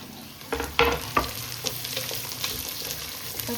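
Vegetables fry in a pan for a mushroom biryani, a soft sizzle broken by a few sharp clinks and scrapes of a utensil early on, fairly quiet and close.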